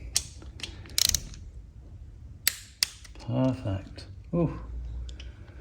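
A torque wrench set to 33 newton meters clicks sharply a few times while tightening the cam belt tensioner bolts on a Ducati Monster S2R 1000, close and crisp, with brief talk in between.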